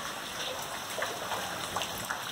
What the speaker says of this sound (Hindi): उसमें तो पानी चूता है इस वाले कमरे में